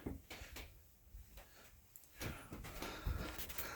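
Kitchen drawers in a 2012 Prime Time Tracer 2679BHS 30-foot travel trailer sliding open and shut, a few soft wooden thumps and rattles, with a louder knock near the end, fairly close in a quiet room.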